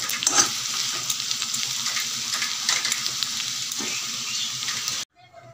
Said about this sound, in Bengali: এই যে আলু ভাজা